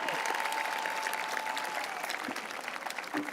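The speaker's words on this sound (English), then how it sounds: "One more round of applause for our valedictorians" Dense crowd applause for the valedictorians at a public school commencement ceremony, loud and sustained before tapering slightly, with a few voices mixed in.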